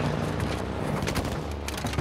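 Dense gunfire from a firefight in the Call of Duty: Modern Warfare II (2022) campaign, with rapid overlapping shots and heavy booms in a loud, continuous barrage.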